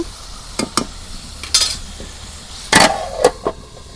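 Chicken curry stirred in a pan with a metal spoon: a few sharp scrapes and clinks, single at first and then in small clusters, over a soft sizzle with no voices.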